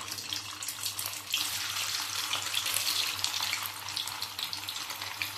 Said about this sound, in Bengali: তেলটা গরম হয়ে গেছে, এর মধ্যে এবার আমি এক এক করে সব পনিরগুলো দিয়ে দেবো।